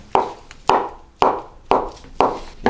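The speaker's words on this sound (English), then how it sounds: "It's just chopping up the rest." A knife chops boiled eggs for egg salad in five evenly spaced, crisp strikes against a cutting board, each a short thud with a soft decay, heard up close with no talking.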